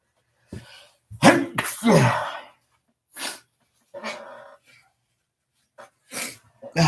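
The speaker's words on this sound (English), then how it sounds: "I got to sneeze." A person sneezes while sitting at a computer: one sharp, loud burst followed by a second, then scattered quieter breaths and vocal noises.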